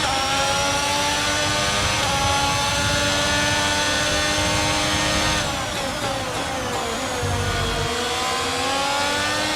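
Formula 1 race car engines from the F1 22 video game screaming at high revs in a side-by-side drag race, a loud continuous whine that climbs through the gears with a brief dip at a shift.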